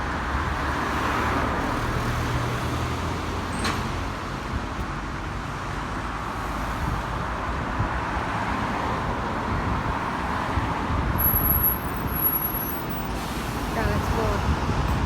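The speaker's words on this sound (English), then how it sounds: "Today we'll be reviewing the Scania K280UB Custom Coacher CB80 on Route" Scania K280UB bus with Custom Coaches CB80 body driving on a Sydney route, a continuous moderate engine drone and road rumble from inside the cabin with a brief chime or beep partway through.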